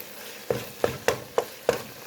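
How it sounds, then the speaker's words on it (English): Ground meat for a meat sauce fries in a pan under a steady soft sizzle, broken by five evenly spaced scraping stirs of a utensil, close and fairly quiet, with no voices. "And now we're just gonna fry this up"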